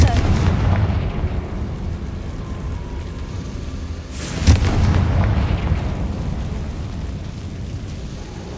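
A Confringo fire spell explodes in Hogwarts Legacy as a deep, rumbling blast that swells midway through, over a steady bed of game ambience.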